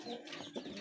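Aseel chickens making a brief, soft clucking sound in a home setting. It is faint and close, with low murmuring and no speech.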